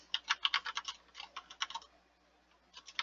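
Someone types a group name on a computer keyboard, bursts of quick close key clicks broken by short pauses, faint and with no talk.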